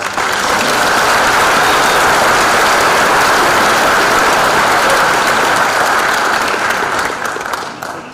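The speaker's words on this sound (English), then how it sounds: "give our students a round of applause" A large crowd at a select board meeting in a school auditorium gives a loud, continuous round of applause for students, a thick steady roar of clapping that tapers slightly at the end.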